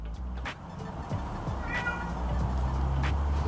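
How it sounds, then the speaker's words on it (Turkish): An angry cat meows indoors behind a closed door, giving a few strained, drawn-out cries at moderate distance over a steady low background hum. "Kızgın bir kedi."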